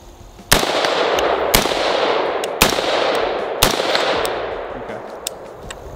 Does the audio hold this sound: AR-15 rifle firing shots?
yes